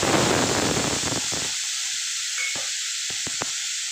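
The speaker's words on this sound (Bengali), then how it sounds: "টমেটোটা দিয়ে দেব।" Tomato drops into hot oil with mustard seeds for aloo sambar, producing a loud burst of sizzling that cuts off after about a second and a half, followed by a few sharp utensil clinks and taps in near silence.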